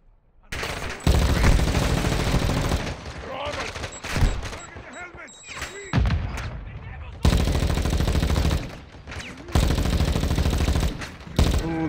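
Gunfire in the Call of Duty Modern Warfare 2 campaign: loud rapid automatic bursts broken by short pauses, with a voice speaking between volleys.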